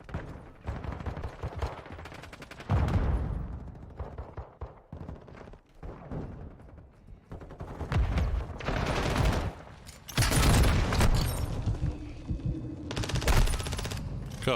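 Shotgun gunfire in Modern Warfare 2 multiplayer, heavy blasts in irregular bursts alongside other weapon fire and game noise, loud and close throughout.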